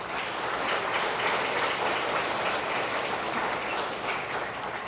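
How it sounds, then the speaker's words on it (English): Sustained applause from an audience at a high school athletic hall of fame ceremony, dense and even throughout, with no talk over it. "Join me in saying thank you to them with a round of applause."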